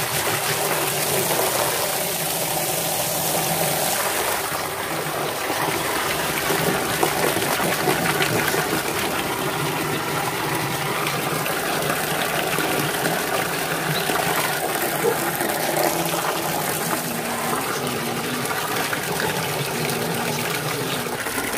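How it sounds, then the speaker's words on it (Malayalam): Water pours steadily into a fish tank aquarium, a continuous rushing gush with a faint pump-like hum underneath, even and unbroken throughout at close range, no talking. "ഇനി ഒന്നുകൂടി വെള്ളം ഫുൾ ഫില്ല് ചെയ്യണം"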